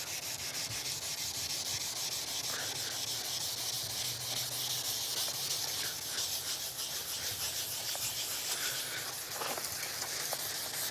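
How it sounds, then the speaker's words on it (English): Wet sanding of a Vauxhall Corsa headlight lens by hand, a steady close rubbing and hissing scrape that continues without pause. "You can actually feel the condition changing when you're sanding."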